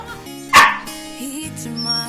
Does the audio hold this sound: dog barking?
yes